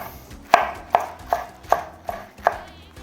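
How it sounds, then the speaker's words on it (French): Chinese cabbage being sliced with a knife on a board, six crisp evenly spaced chops about every 0.4 seconds, close and clear with no talking. "on essaie de couper le chou, de l'émincer de façon régulière"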